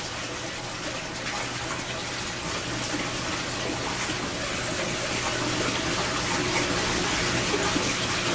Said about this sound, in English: And watch how the water goes down